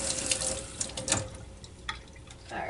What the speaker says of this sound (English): Let's rinse this off real quick so we can use it again.